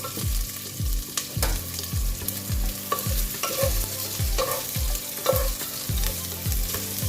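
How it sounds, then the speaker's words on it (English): Onions sautéing on a low flame in a pan for vegetable pulav: a soft, steady sizzle with regular close scraping strokes of a spatula against the pan, heard alone without talk. "I have used 3/4 of onion, and let's saute this again."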